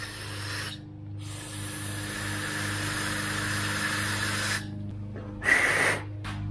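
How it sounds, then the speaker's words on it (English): Brake cleaner sprays from an aerosol can onto the dirty MAF sensor of a Subaru Impreza 2.5L, a long steady hiss lasting several seconds, then a short second burst, over a low engine idle hum. "All right, brake cleaner usually does the trick."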